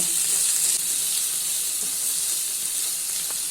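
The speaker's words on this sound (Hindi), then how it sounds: "अभी इसमें कटे हुए टमाटर ऐड कर लेना है और मिक्स कर लेना है।" Chopped tomatoes are stirred into onions frying in a pan over a medium flame, giving a steady, soft hiss and sizzle throughout with no voices.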